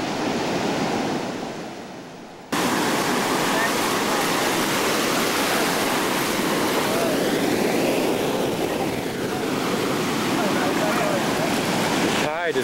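Ocean surf rolls onto Daytona Beach as the tide goes out, a loud, continuous wash of breaking waves close by, with a brief muffled drop early on before the full roar returns.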